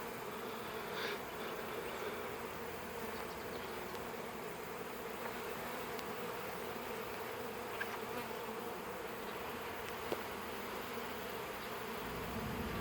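A swarm of honeybees, still in swarm mode, buzzes steadily around a dropped hive frame, a dense continuous hum that stays level throughout with no voices.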